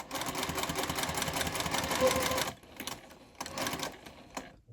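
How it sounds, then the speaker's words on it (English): Domestic sewing machine running a quarter-inch seam around the top of a layered fabric Christmas stocking: a steady, close motor whir with rapid needle clatter for about two and a half seconds, then a pause and a shorter second burst. "I'm just going to sew with a 1/4 inch seam allowance right around the whole top of our Christmas stocking now, sewing all those layers together."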